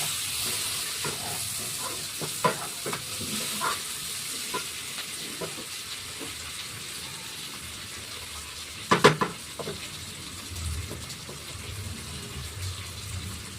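Tomato dropped into a hot pan sets off a lively sizzle and steamy hiss. Scattered stirring clicks and one sharp clatter of a utensil join in, and the sizzle continues underneath.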